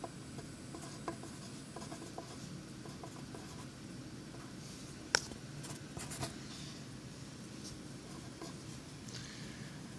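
Marker or chalk writing on a board during a math lecture, heard as faint intermittent scratchy strokes with one sharp tap, over steady low room noise and no talking.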